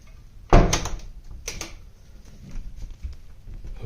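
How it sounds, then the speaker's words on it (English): Sliding door of a Japanese inn room being opened, a sharp wooden knock and rattle followed by a softer second clatter as the panel glides along its track, close and with no talk. "Opening the door."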